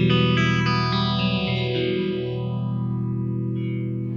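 A distorted electric guitar with a phaser pedal placed in front of the amp, a few chords leading into a sustained ringing chord while a smooth phase sweep dips and rises through the tone.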